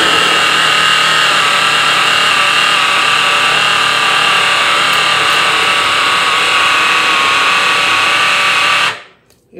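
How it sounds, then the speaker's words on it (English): Immersion blender motor running steadily in peanut butter mix, a loud continuous whir that straining under the dense mixture, cutting off abruptly near the end. "So I'm gonna pop the immersion wand back on here"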